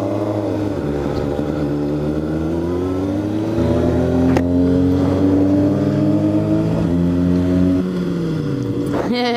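Cold motorcycle engine running without warm-up, a close droning hum whose pitch climbs through gear changes as it accelerates, then eases off near the end.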